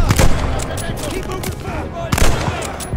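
Call of Duty: Vanguard combat on PC, with loud gunshot bursts at the start and again after two seconds over a steady din of battle noise.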